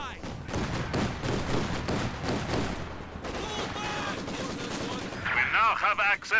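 Maxim machine gun fire in the World War II strategy game Company of Heroes 2, rapid bursts of gunfire mixed with other battle sounds, with a commentator talking over it.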